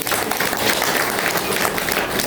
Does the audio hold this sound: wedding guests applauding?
yes